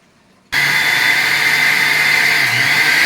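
A mixer grinder whirs at full power as it blends a jackfruit and jaggery mixture for chakka ada. The steady, loud motor roar starts abruptly and runs without a break.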